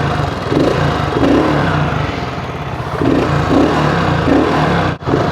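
A BSA Scrambler 650 motorcycle engine starts and idles with a steady mid-range rumble and a few rhythmic revs, loud and close throughout, with a brief dip near the end.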